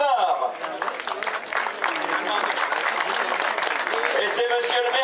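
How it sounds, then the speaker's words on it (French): Audience applause after the women's podium ceremony of a cycling race on the Cadoudal circuit at Plumelec, dense sustained clapping from a crowd with an announcer talking over it. "Sous vos applaudissements, s'il vous plaît, mesdames et messieurs"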